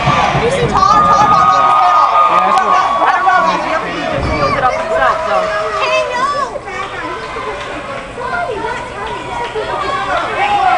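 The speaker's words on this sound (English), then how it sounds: "This is the most I've ever heard a crowd into an Ace Haven match" A packed wrestling crowd at a $4.50 Wrestling show cheers and whoops loudly and close, with shouts and shrieks rising and falling over a dense wash of voices.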